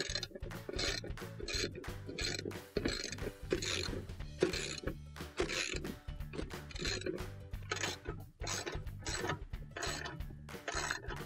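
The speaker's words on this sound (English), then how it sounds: "use our 3/8 socket to tighten those all up" A 3/8 socket ratchet tightening screws on a washer during a tub bearing replacement, giving steady rapid clicking bursts in quick rhythmic strokes, close and fairly quiet, with no talking.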